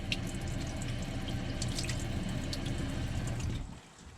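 Hot water gushes steadily from a faulty tap into a sink with a spattering hiss, then the flow stops abruptly near the end.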